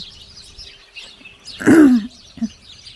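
A flock of small birds chirps noisily in a continuous high twittering in the background, interrupted midway by a loud, close human throat-clearing or cough.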